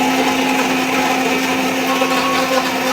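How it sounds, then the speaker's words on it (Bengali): An electric blender whirs continuously, blending cold coffee with ice and a little water, a loud steady motor drone from start to finish with no talk. "এখন এখন হচ্ছে ব্লেন্ডার করবো"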